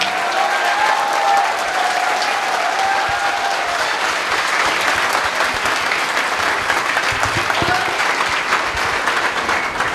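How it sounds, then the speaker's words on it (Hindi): Loud, sustained applause from a large crowd of students at a startup talk, dense and continuous clapping filling the whole stretch without letup. "दोनों हाथ ऊपर करके तालियां बजाओ"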